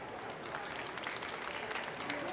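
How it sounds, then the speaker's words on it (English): Audience at a conference session applauds the speakers, a steady faint wash of many hands clapping continuously for a couple of seconds. "Please give a round of applause for everyone"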